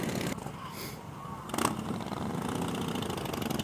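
A small Honda Grom motorcycle with about 9 horsepower runs steadily nearby, its engine holding a constant buzzing drone with a slight rise partway through, no speech over it.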